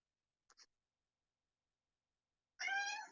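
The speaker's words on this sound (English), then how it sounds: "And Riley thought he was the only one with a loud cat." A loud house cat meows in a kitchen while someone cooks: a short faint chirp first, then after a pause one long, strong, close meow.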